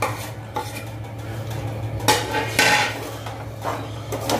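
Roasted dry fruits being stirred into a makke ke atta laddu mixture in a pan, with a spoon scraping and clattering against the metal in an uneven, continuous rhythm, close and fairly loud.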